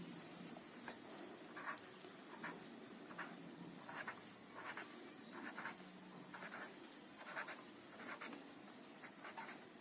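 Pen or pencil steadily writing out the digits of a multiplication table on paper, repeated short scratchy strokes in a regular rhythm, close and moderately quiet with no talking.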